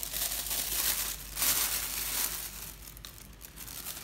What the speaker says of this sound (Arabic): هجيب كيس من الاكياس اللي هي الشفافة دي